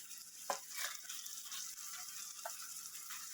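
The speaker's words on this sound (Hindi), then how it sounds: "ये देखिए, थोड़े से मसाले हमारे भून गए हैं।" Spices sizzle and fry in a hot pan for dal tadka, a steady bright crackle with a few stirring scrapes and knocks, close and alone with no talk.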